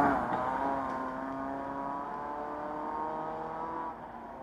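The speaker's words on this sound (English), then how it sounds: "On board now with Michael Wilson in his completely standard Land Rover Freelander." A completely standard Land Rover Freelander, heard on board during the 2018 Scottish Borders Hill Rally stage. Its engine whines steadily and loudly at high revs, easing slightly toward the end, with no talk.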